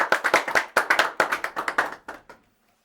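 An audience at an agriculture school gathering claps together to welcome its top students: a brisk run of sharp, close hand claps that thins out and stops after about two seconds, with no voices.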